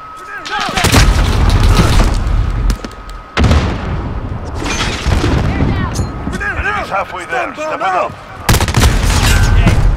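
Gunfire in Call of Duty Modern Warfare, loud bursts of rapid shots and booms in clusters with brief gaps, under a player's shouting voice.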